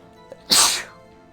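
One sharp sneeze bursts out close and loud after a brief intake of breath, then fades quickly into quiet.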